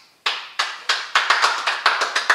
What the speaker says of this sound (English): let's put our hands together for Blaze